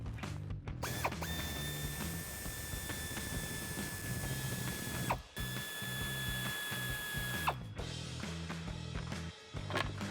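An air ratchet removes the rear bumper bolts on a Jeep Wrangler JL in a garage, with a long, steady mechanical whir broken by a few short pauses and clacks as the tool stops and restarts.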